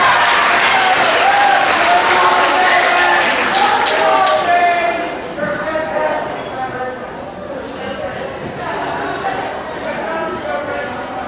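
A school audience at a middle school awards assembly claps for honor roll students, the applause loud and full at first, then thinning and fading toward the end while voices carry over it.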